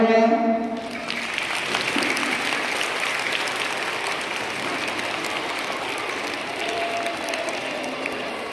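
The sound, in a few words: crowd applauding after stick-twirling (lathi) contest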